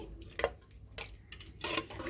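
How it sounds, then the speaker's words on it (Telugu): Garam masala stirred into a country chicken curry in a pressure cooker, a few quiet scrapes and clinks of a spoon against the metal pot in short, irregular strokes, faint and close, with no talking. "గరం మసాలా వేసుకొని ఇలా ఒకసారి కలుపుకుందామండి"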